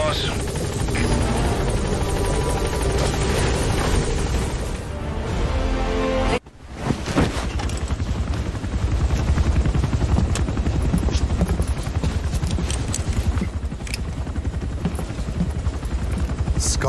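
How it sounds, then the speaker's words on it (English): A support helicopter in a tactical video game roars continuously with dense rotor and engine noise, cut by a brief dropout midway before the loud drone returns, with scattered crackles that may be gunfire. "Support helicopter has arrived."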